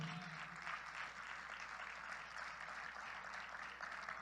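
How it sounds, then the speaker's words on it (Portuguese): A church congregation applauds after a sermon, steady rippling clapping that stays faint and distant throughout, with no speech over it. "Aplauda o nome do Senhor."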